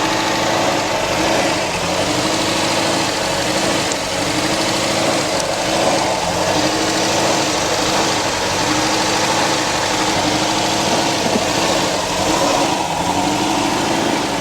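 A Dodge Charger V8 with a faulty throttle body runs roughly at a loud, steady idle, a dense uneven rumble filling the whole stretch with no talk.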